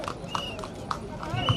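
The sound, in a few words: horse hooves clip-clopping at a horse race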